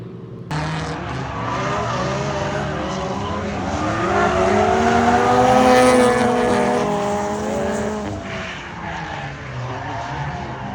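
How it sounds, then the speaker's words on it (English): Race cars at USAIR Motorsports Raceway in Shawano roar past in a sustained loud engine drone, pitch rising and falling as they sweep by and fade slightly into the distance. "Today we visit USAIR Motorsports Raceway."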